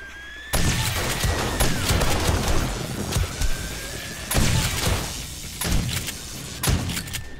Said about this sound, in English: There we go. Three shots.